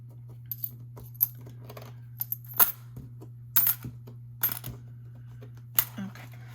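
Coins dropped one by one into a cash envelope, a scattered series of small metallic clinks and jingles at irregular intervals over a low steady hum.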